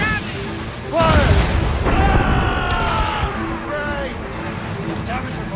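Ship cannons boom during a naval battle in an Assassin's Creed game, with a loud broadband blast and rumbling follow-up as shouting voices are heard over it.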